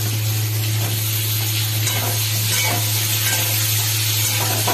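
Food sizzles and crackles steadily in hot oil in a karahi pan, with occasional stirring scrapes and a low background hum throughout.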